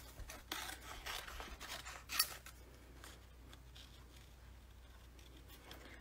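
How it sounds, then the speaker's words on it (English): Scissors cut paper cards for stamped craft projects, producing repeated rasping snips and rustles, busier in the first half with one sharper snip, close and fairly quiet without speech. "So let me go ahead and cut these out."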